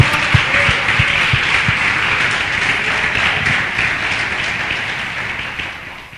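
A church congregation applauding: a steady, dense wash of clapping from many hands, fairly loud and close, fading slightly toward the end.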